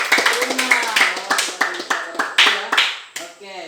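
Students in a junior high school classroom clap for a classmate, a burst of sharp, fairly close handclaps in an irregular patter, with voices calling out between and over the claps.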